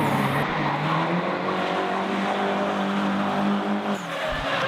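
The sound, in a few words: Nissan drift car sliding back and forth through the infield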